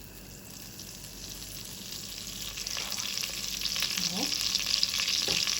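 Butter sizzling in a pan of oil from fried onions while Egyptian koshari is made, a steady hiss that grows louder, with a brief spoken word and light stirring scrapes.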